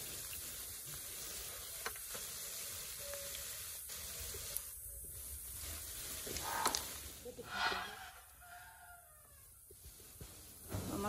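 Salvadoran empanadas frying in a pan and being turned, a low continuous sizzle and hiss with a few brief clatters, close and faint.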